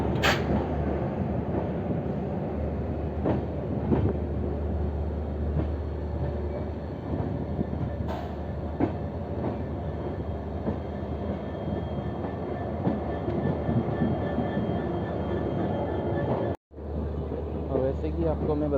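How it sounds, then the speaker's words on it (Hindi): Jan Shatabdi Express with LHB coaches behind a WAP7 electric locomotive, leaving Guwahati for Jorhat: a steady rumbling roar of the moving train heard from inside, with faint clicking rail joints and someone talking over it. "शार्प 6:10 AM को गुवाहाटी से रवाना हो चुके हैं हम लोग के जनशताब्दी एक्सप्रेस।"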